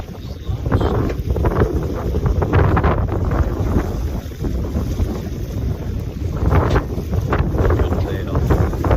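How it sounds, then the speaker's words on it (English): A sailboat running under sail across a bay in roughly 20-knot wind, with heavy gusting wind buffeting the microphone, water rushing along the hull and occasional speech, all continuous and close. "This is our first real good solid sail in the bay."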